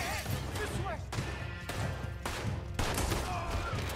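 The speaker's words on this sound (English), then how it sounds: "I was shooting at my friend." Gunfire in the video game Red Dead Redemption 2: sharp shots crack out in a rapid, uneven series about every half second, loud and close against a busy game background.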